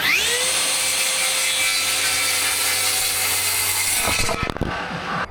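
A FLEX 24V cordless reciprocating saw cuts wood. The motor whines loud and steady at high speed for about four seconds, then the blade breaks through and the sound ends in rattling clatter.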